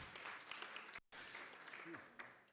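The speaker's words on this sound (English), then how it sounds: "Give yourselves a round of applause." Applause from the audience at a campus safety launch event, steady clapping throughout with a short break, quite faint and distant.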